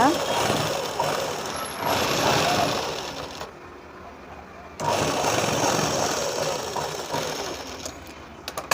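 A sewing machine stitches the border of a Punjabi dress with lining, a loud, rapid mechanical chatter that runs in bursts with a short pause in the middle, while someone talks over it.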